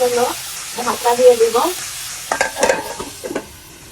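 Hilsa fish head and gourd peel being stirred and mixed in a pan, giving a few scraping, sizzling strokes over about four seconds, with some tonal voice-like sounds early on.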